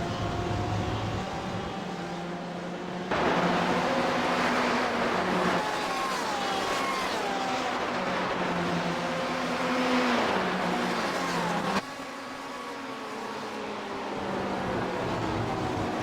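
GTE race cars, including a Porsche and a Ferrari, lapping Road America in a sim racing game, with a loud, steady engine whine rising and falling in pitch through gear changes and no talking.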